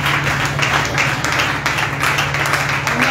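A church congregation at a women's prayer service claps steadily together, a dense continuous patter of applause over a low sustained hum.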